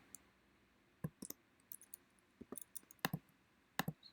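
Mouse clicks while drawing shapes with the circle tool in Adobe Illustrator: scattered sharp, quiet clicks, some in quick pairs, close up and alone.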